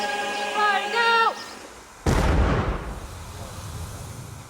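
A Royal Marines artillery gun fires once in Afghanistan. A warbling tonal signal comes first, then a single loud, close boom that rolls off into a long, fading rumble.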